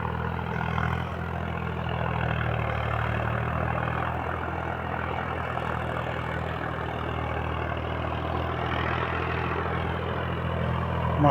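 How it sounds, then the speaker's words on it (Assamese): A tractor ploughs a village field, its engine making a steady, droning mechanical hum at moderate distance for the whole stretch, with no voices. "গাঁৱলীয়া মানুহ যিটো ট্ৰেক্টৰেৰে হাল বৈ আছে"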